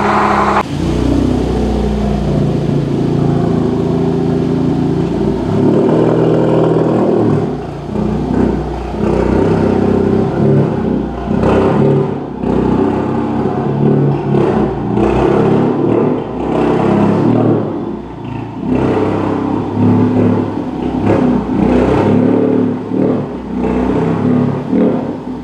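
A big-turbo Ford Focus ST, started for the first time after a year, idles loudly up close and revs repeatedly in short bursts, with no talk over the engine.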